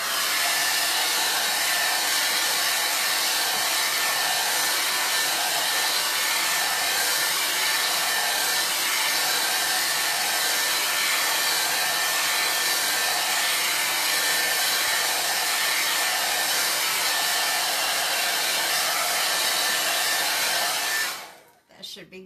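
A hair dryer blows steadily on chalk paste spread over a wood piece, a loud, constant close-up roar that runs unbroken before cutting off abruptly at the end.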